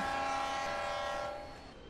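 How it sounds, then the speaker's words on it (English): A passenger train's locomotive sounds a steady multi-tone horn, loud and close, holding for about a second before fading as it passes. "They each blew their horns in greeting."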